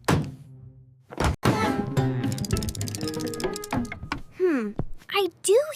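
Cartoon thumping from an attic: a couple of heavy thuds near the start, followed by music and animated character voices, with a child-like voice chiming in.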